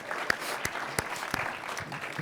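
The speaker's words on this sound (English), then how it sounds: "Round of applause for Cassiopeia." An audience claps steadily for about two seconds with several sharper individual claps standing out, moderately loud and without talk, at a science talk about the Mars rovers.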